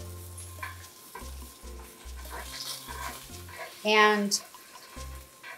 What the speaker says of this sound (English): I'm gonna leave the salmon cooking the way it is for like another couple of minutes